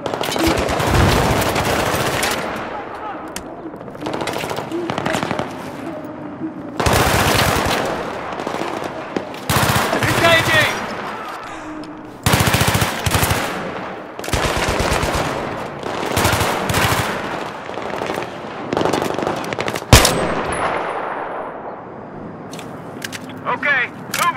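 Gunfire in the video game Battlefield: repeated loud bursts of automatic fire and sharp shots, separated by brief lulls, with voices talking among the shooting.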